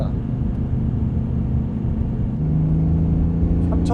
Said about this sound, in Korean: 분명히 6기통인데 타격감은 V8이에요.